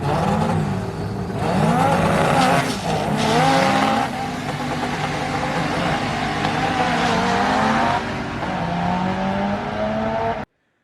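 A twin-engine drag race car launches and accelerates hard down the strip, its loud engine roar rising through the gears in sustained near bursts with tire noise, no voices.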